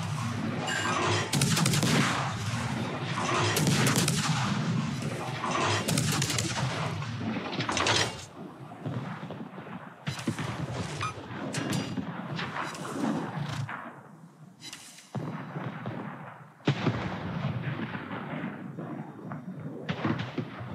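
Naval guns on a destroyer fire in a video game, with a series of loud, heavy booms and blasts, some in quick clusters and others spaced apart, each followed by a rumbling decay.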